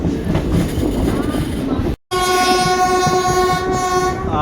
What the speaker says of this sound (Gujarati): અથવા બાજુના ટ્રેક પર કોઈ ટ્રેન જઈ રહી છે.